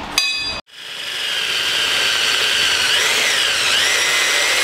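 A power tool, likely an impact driver or drill, bolting a Go Power Sports rack and pinion steering onto a Kawasaki Ninja engined off-road buggy, a short burst and brief pause, then a loud, sustained whirring close by.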